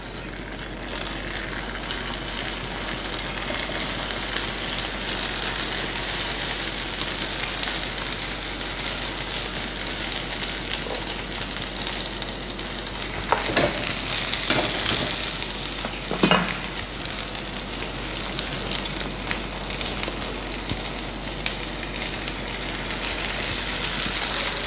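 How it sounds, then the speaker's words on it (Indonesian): Food pan-frying in a hot pan with a steady, loud sizzle and crackle throughout, plus a few sharper pops and spatters partway through, with no talking. "Ini sekarang kita ya di satu sisi kita pan fry dulu."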